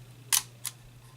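A quirky film camera's shutter release fires twice, a sharp close click followed by a quieter second click, over a faint steady hum.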